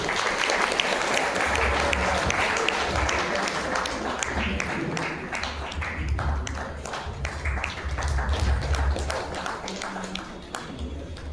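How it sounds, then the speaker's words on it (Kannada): Sustained audience applause in a hall at a Gamaka festival in Tumakuru, a steady wash of many hands clapping that swells and fades slightly with no pause. "ಚಪ್ಪಾಳೆ ಬರ್ಬೋದು"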